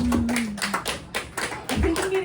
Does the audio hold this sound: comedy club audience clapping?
yes